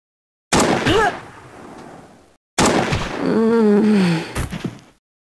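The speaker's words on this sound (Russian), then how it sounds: "Шрам страхует мою группу своими меткими выстрелами." Gunfire in the tactical video game Jagged Alliance 2 (Back 2 Business mod): two sharp loud shots about two seconds apart, each with a ringing tail, the second followed by a warbling echo and short pops.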